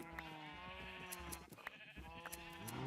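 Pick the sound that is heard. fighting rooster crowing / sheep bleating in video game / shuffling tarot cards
sheep bleating in video game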